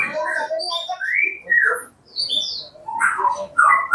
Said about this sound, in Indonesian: sepertinya ini burung agak lama teman-teman mandinya, karena dia sangat lama, sangat emosi serta birahinya masih tinggi ya.